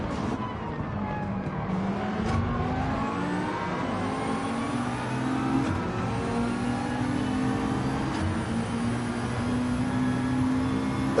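A McLaren race car in Gran Turismo 7 at Spa drones with a continuous high engine whine that climbs and falls through gear changes, loud and steady, with a few brief tyre squeals and other cars around it.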